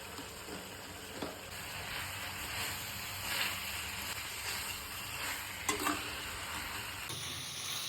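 Ginger garlic paste sizzles in a hot pan for chicken pepper dry, a steady close frying hiss with a few sharp crackles and stirring scrapes.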